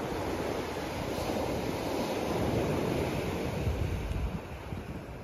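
Sea waves wash steadily over a stony beach on a stormy day, a continuous broadband roar of surf with wind buffeting the microphone, close and fairly loud throughout with no voices.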